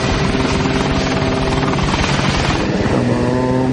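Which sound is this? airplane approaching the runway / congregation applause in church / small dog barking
airplane approaching the runway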